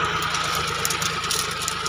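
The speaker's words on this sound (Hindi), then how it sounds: "अभी हम लोग प्लाउ जो है करवा रहे हैं। जॉन डियर 50-50 ट्रैक्टर है" A John Deere 5050 tractor engine drones steadily while pulling a plough through a field, a loud continuous mid-pitched rumble with rhythmic throbbing and no voices.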